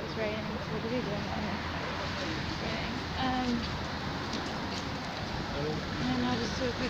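Steady rain falls outdoors in a soft, even patter that runs the whole time, fairly quiet and unbroken, with no talking.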